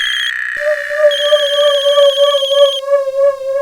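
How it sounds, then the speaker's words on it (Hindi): A telephone rings with a loud, clear electronic ringtone, a steady sustained tone with shifting upper notes carrying on throughout, with no talking. "अरे कब से फोन बज रहा है, उठाती क्यों नहीं?"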